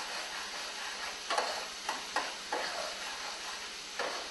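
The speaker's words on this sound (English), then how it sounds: "Stir. It's all about stirring." A spiced crab egg mixture being stirred in a bowl, soft continuous scraping with a few sharper strokes at irregular intervals, close and fairly quiet, no talking.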